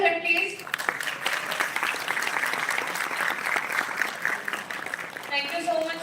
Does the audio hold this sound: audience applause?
yes